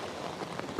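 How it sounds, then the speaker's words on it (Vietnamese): Heavy rain from a passing storm pours steadily onto surfaces in central Vietnam, a dense continuous hiss of drops that stays loud and even throughout with no voices. "Mưa gió quá, do ảnh hưởng bão cho nên hai ngày đây mưa nguyên ngày luôn."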